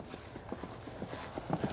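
Horse hooves beat rhythmically on the ground during a show-jumping riding lesson, a quick series of soft, fairly distant thuds over steady background noise.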